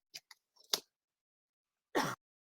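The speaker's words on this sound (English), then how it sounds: "I don't know how loud my cough is." One sharp, close cough stands out in a quiet room, preceded by a few small clicks and rustles.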